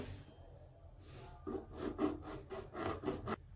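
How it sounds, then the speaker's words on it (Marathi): A knife slices through lemons on a cutting board while making a spicy chilli pickle, giving a series of close, rhythmic scraping strokes after a quiet start, with no talking. "तर लिंब कापून घेऊ"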